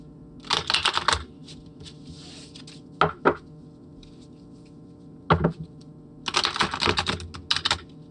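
A deck of tarot cards is shuffled close by in separate bursts: a long riffle of rapid papery flutters, a couple of quick snaps, a lone flick, then another extended riffle, over quiet room tone with no talk.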